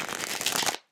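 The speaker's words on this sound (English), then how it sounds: "I'm going to shuffle this a lot to get the bow out" A vintage tarot card deck being shuffled gives one quick, close riffle of crisp papery flutter lasting under a second, then cuts to silence, with no talk.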